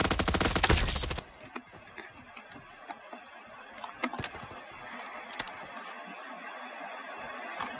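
A submachine gun, an MP5, fires in the Frontlines video game: a loud burst of rapid shots at the start, then scattered single cracks and clicks over a low steady game background.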